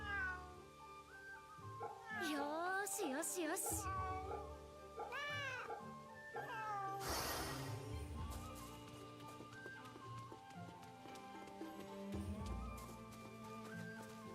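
A cat in the video game Fate/Samurai Remnant gives several drawn-out, rising and falling meows over game music, with a short spoken line partway through.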